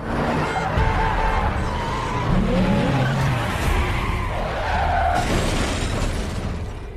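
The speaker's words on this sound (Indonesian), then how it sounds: "Michael melihat ibu Effie yang sedang ada di tengah jalan dan hampir saja tertabrak oleh mobil" A car skids on a road with tires squealing, nearly striking a woman standing in the middle of the street; a loud, sustained screech over a busy scene lasting several seconds.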